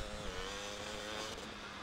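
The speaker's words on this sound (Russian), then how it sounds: "Лучше я буду ездить на мотоцикле." A motorcycle engine in Grand Theft Auto: Vice City drones steadily and loudly with a constant pitch throughout, with no voices over it.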